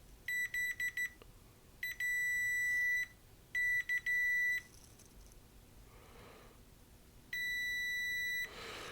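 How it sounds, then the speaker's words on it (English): A multimeter in continuity mode tests a fuse on a 2015 15-inch MacBook Pro logic board. Sharp, high-pitched electronic beeps come in short bursts and longer sustained tones, with quiet gaps between them. "We'll do a continuity beep on this fuse."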